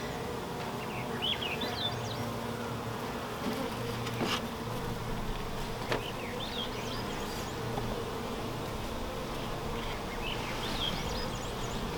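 Honeybees buzz around an open hive during an inspection as frames are lifted out, a steady close hum with occasional brief knocks, no one speaking.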